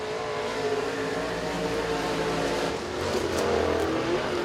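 Race car on a qualifying lap at Rome Speedway, its engine droning loudly and steadily throughout with rising and falling revs as it circles the track, no talk over it.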